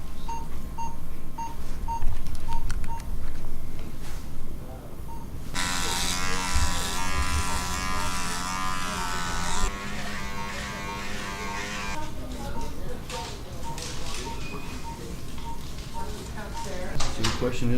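Electric razor buzzing steadily as a patient's leg is shaved before surgery in a hospital, a close, continuous droning hum running under people talking.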